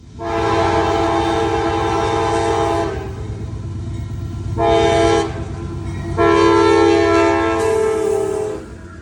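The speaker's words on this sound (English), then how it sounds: "Next was just a basic stack train, nothing special about it." A freight stack train led by a 1990s-era AC-44 locomotive passes with a constant heavy rumble while its horn blasts loudly in three long sustained sounds.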